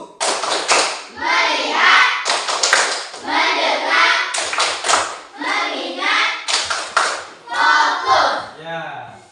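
Children in an Indonesian classroom clap together in a rhythmic clapping game, bursts of group claps in short patterned runs with lively young voices chanting along throughout.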